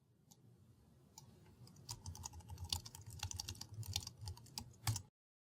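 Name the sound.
typing on a computer keyboard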